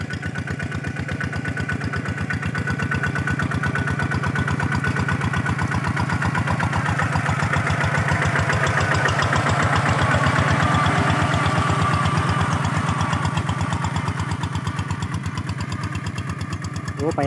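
A walk-behind tractor with a three-disc plow labors through rice stubble with a deep cut, its engine thumping in a steady, loud, fast beat that rises and strains slightly in the middle. Faint talk comes through now and then.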